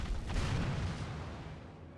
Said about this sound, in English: What, do you think he's setting off bombs?